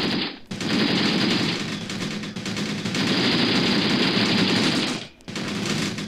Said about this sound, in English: we're mostly hitting this thing just with machine gun fire